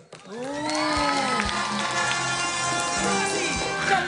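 A studio audience on a Saturday variety TV show applauds and cheers loudly before a tiebreaker round, a sustained roar of claps, shouts and whoops that stays strong for about four seconds.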